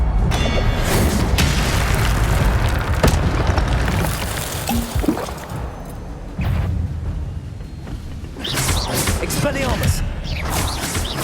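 Expelliarmus spells are cast in Hogwarts Legacy: heavy booming magical impacts and crashes crowd a dense, loud battle mix, with a character voice shouting the incantation.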